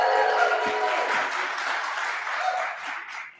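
An enthusiastic audience claps and cheers at a seaweed challenge for sea urchins, a dense burst of applause that starts full and slowly fades out over a few seconds.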